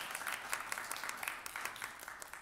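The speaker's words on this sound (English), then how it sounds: "Let's give everybody a round of applause for all of their hard work tonight." Congregation applauds at a Christmas Eve worship service, brief, fairly quiet clapping heard from a distance as a soft, even patter without voices.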